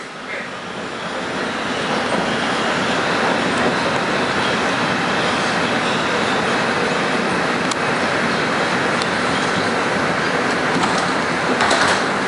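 A 2003 Bombardier R-142 subway car, number 7035, runs on a 2 express train along the IRT Lenox Avenue Line, giving a steady loud roar of wheels and motors with faint clicks and squeals, no voices.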